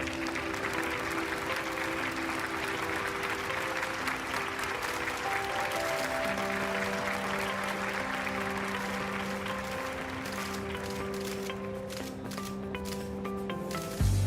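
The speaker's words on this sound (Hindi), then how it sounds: "जोरदार तालियों से स्वागत कीजिए।" Loud, sustained applause welcomes a speaker onto a stage at a corporate event, a dense wash of clapping that runs the whole time over steady sustained musical tones, with no speech.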